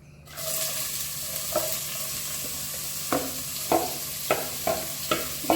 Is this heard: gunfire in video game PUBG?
no